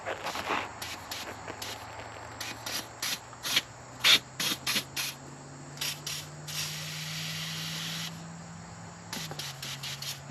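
PB Blaster penetrating oil sprays from an aerosol can onto bolts on a 1975 International 200 automatic, a rapid series of short close hissing bursts followed by one longer spray.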